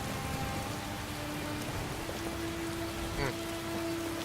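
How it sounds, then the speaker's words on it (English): Steady rainfall in the video game Skyrim, a continuous hiss of rain on surfaces at moderate level with a faint sustained tone underneath, no talk over it. "it's raining."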